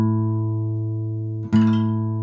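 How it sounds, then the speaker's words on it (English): An electronic guitar tuner gives a short bright confirmation chime over a sustained low E string ringing on an acoustic guitar, the chime brief and sharp, the string note steady and close. "That sound means I'm in tune, right?"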